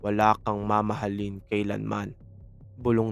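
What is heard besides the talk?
No distinct noise like a dog, phone or traffic.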